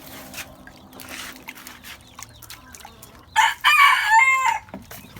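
Chickens in a hobby coop with a newly bought silver rooster, soft clucks and scratching at first, then a loud burst of crowing or squawking near the end.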